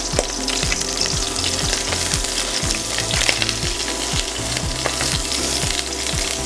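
Scallops searing in hot oil, a steady loud sizzle and crackle of frying throughout, with rhythmic faint clicks underneath, close up and with no talking.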